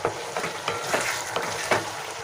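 A ridge gourd and potato curry dusted with red chili powder is stirred in a hot pan. A continuous sizzle carries rhythmic scraping strokes about every third of a second, close and fairly loud.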